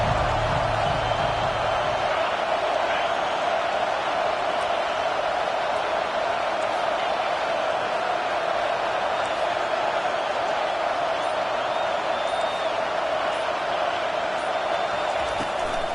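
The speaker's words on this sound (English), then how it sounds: "Decibels rising as the crowd gets behind this defense on third down." Stadium crowd in the American football video game Madden 25 on a third-down defensive play, a steady sustained crowd roar throughout, under a commentator's voice.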